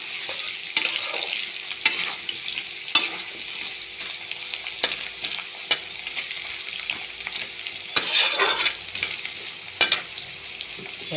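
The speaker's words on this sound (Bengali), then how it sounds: "তেলের সঙ্গে একটু ভালো করে ভেজে নেব।" Crushed spices frying in hot oil in a pan for a cabbage dish, with a steady close sizzle and a spoon scraping and stirring at intervals, no voices.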